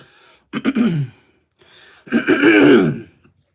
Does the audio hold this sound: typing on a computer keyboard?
no